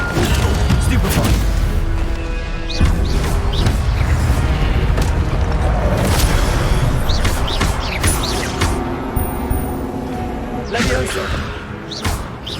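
Spell combat in Hogwarts Legacy, with repeated Stupefy casts that hit as loud booms, crashes and whooshes in a rapid, busy series. A voice shouts through the fighting.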